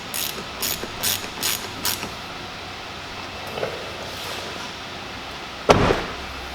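Five quick ratcheting bursts in a steady rhythm as a ratchet tightens a nut on a 2020 Chevrolet Silverado door, close by, then quiet handling noises and a sharp knock near the end.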